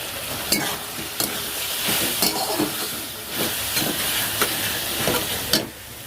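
Spice masala sautéing in a pan with Everest mutton masala: a steady close sizzle and hiss with repeated spatula scrapes and stirring knocks, no talk.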